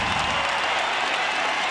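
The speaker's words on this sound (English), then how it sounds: "You hear the crowd?" An NBA basketball arena crowd roars in a dense, continuous wash of cheering and applause during a Spurs at Mavericks game, loud and steady throughout.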